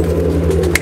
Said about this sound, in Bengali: সব ডিমে বসে আছে পায়রাগুলো